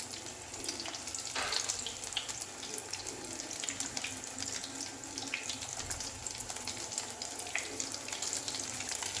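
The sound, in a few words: soya poha tikki frying in a pan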